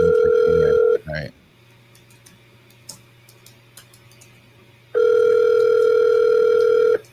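A telephone rings out on an outgoing call: a loud steady ring tone for a second, a pause with faint ticking, then the ring tone returns loud and close.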